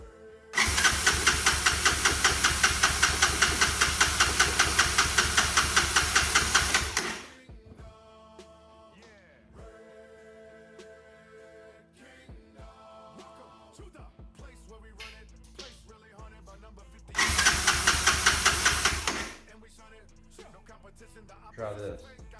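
A Honda TRX200SX ATV, not started in years, gives a long burst of rapid rhythmic cranking, falls to near quiet with faint clatter, then cranks again in a shorter burst, loud and close.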